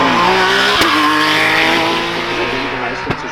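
A hillclimb race car at Rechberg roars loudly with its engine pitch shifting and tires squealing, while a commentator talks over it.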